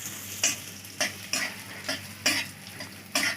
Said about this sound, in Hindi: सबसे पहले मूंगफली के दानों को थोड़े से रोस्ट करूंगी